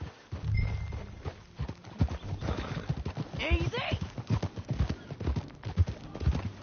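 A horse's hooves clip-clop at a walk, steady close beats with a whinny partway through, while someone speaks a brief calming word over the steps.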